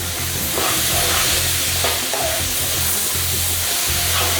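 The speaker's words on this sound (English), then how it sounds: "So stir the mango in." Mango pieces stirred into hot spices in a frying pan for homemade Indian mango chutney, giving a steady loud sizzle with scraping stirs throughout.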